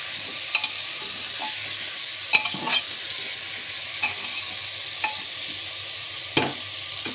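Ingredients with chilli, cumin and coriander powder sizzle steadily in a pan, broken by soft irregular scrapes and taps of a spoon stirring, close up with no talk.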